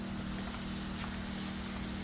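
A TaskStar battery-powered backpack sprayer mists fungicide onto a mango tree, giving a steady, even hiss of spray over a constant low motor hum, close and continuous.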